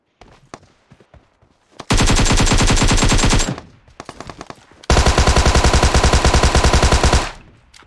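Rapid automatic gunfire in an online shooter video game: two long sustained bursts of loud, evenly spaced shots, each lasting a second or more, with scattered single shots and clicks before and between them.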